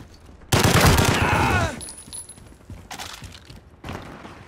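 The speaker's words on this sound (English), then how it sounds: "this is an automatic weapon" Video game gunfight with an automatic weapon firing a sharp, loud burst of rapid shots lasting about a second, followed by quieter, shorter bursts and scattered distant shots.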